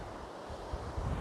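Ocean surf on Manguinhos beach in Buzios in the early morning, a steady broadband wash of waves with low rumbling swells and some wind buffeting on the microphone, with no voices.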